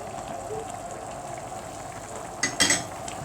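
Garlic, salt, black pepper, cumin and coriander stirred in a hot pan for okra tagine, a steady soft sizzle with a burst of louder scraping and clattering of the spoon near the end.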